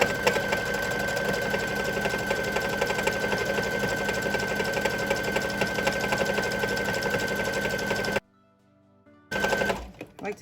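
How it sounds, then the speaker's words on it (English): Sewing machine top stitching around a knit neckband, a steady fast mechanical whirring chatter that runs loud and continuous, stops abruptly near the end, then briefly starts again. "I'm going to go and top stitch all the way around."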